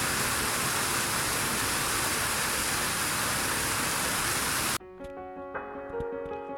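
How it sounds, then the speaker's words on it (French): The Cascade de Saint-Gervais waterfall in the Vercors gives a dense, steady roar of rushing water, loud and unbroken for several seconds before cutting abruptly to quiet music. "Nous quittons la cascade de Saint-Gervais"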